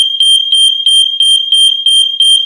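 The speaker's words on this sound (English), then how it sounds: "Is that an alarm?" A smoke alarm goes off in a house, a loud, piercing high beep repeating in rapid regular pulses.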